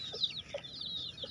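Rhode Island Red hens in a netted ground pen clucking softly with their chicks, a few short low clucks spaced out over a faint high background chatter of birds.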